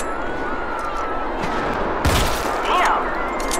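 Gunfire in the video game Sniper Fury sounds as a sharp blast over a rumbling battlefield bed with a voice talking, followed by a brief crackling burst.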